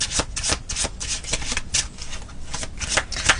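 A deck of tarot cards is shuffled close up, quick repeated riffling bursts of papery flutter and snaps in an uneven rhythm.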